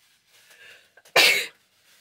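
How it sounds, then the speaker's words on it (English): A single close, loud sneeze bursts out sharply and fades within about a third of a second, with faint rustling and room noise before and after, during a journal decorating session. "I sneezed."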